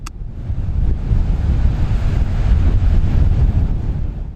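Wind buffets the microphone over steady ocean surf at Deerfield Beach in South Florida, a loud, continuous roar and rumble with no voices.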